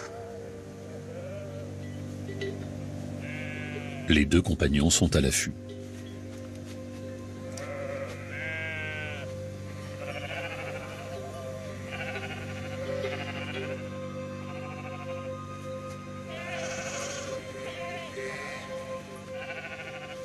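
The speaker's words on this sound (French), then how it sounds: "300 moutons dans ce pré sans clôture." Flock of about three hundred sheep bleating in an unfenced mountain meadow, repeated overlapping bleats near and far over a steady outdoor hum, with a short loud burst midway and someone narrating throughout.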